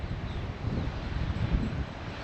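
Stormy wind gusting along a sandy Cyprus coast near Ayia Napa, a loud steady roar of wind buffeting the microphone with no talking.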